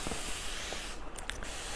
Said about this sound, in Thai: สเปรย์ไปบนพื้นผิวตรงนี้ครับผม ให้มันทั่วให้มันทั่ว